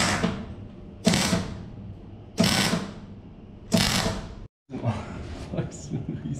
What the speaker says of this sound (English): now Patrick's gonna weld the nut on into this part